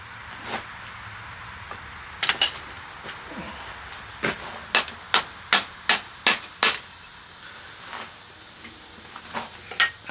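Hot metal being hammered while forging a coat rack, a run of sharp ringing blows, scattered at first and then a quick regular burst of about seven strikes, followed by a few more spaced hits.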